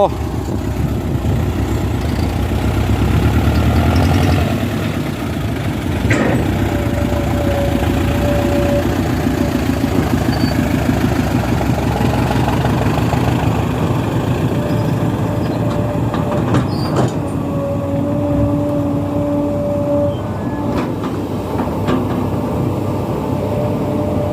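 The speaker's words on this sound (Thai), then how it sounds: "สำหรับเครื่องยนต์มิซูบิชิ 6สูบไดเรกินเจคชั่นเทอร์โบ" A large Mitsubishi six-cylinder direct-injection turbo diesel engine in a dump truck idling with a steady low rumble and rattle, plus occasional clicks and brief tones over it.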